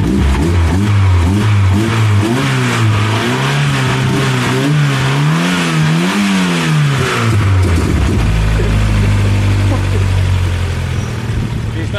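An Opel Kadett GSI engine running just after its first start following a month without fuel, revving up and down in loud sweeping waves before settling into a steady idle, heard up close.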